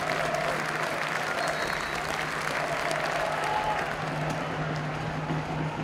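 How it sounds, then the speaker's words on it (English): Home fans and players at a Dagenham & Redbridge football match join in sustained applause, a dense, even wash of clapping from a large crowd heard at a distance and fairly soft throughout. "The crowd and now the players on the field as well applauding"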